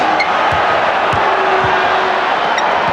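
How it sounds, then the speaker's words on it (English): Arena crowd at a 1993 NBA Finals game between the Phoenix Suns and Chicago Bulls, a steady loud roar of murmuring and cheering with a few sharp thumps and a brief whistle-like tone. "Hearing it from the crowd as he backs his way."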